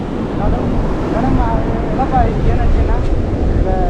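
Strong wind buffets the microphone out at sea off Jaffna, a loud, steady rumble with a boat engine and water beneath, while people talk over it.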